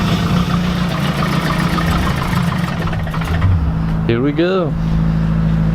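Car engine running on a dynamometer on dyno day, a steady loud mechanical drone throughout with a brief revving swell near the end, as a voice speaks over it.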